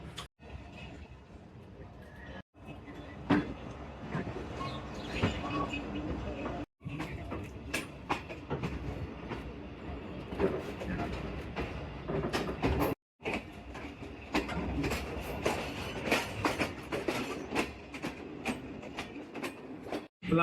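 A diesel passenger train pulls out of Shri Rampura station after crossing another express, with a steady rumble and irregular clicks and clanks of the wagons running throughout. Brief breaks interrupt the sound.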